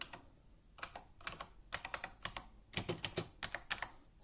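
Rapid, uneven typing on a Unicomp Ultra Classic buckling spring keyboard, loud sharp clacks in quick clusters, close and alone with no talking.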